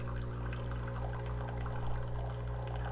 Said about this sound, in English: Let's just turn on your hot water faucet.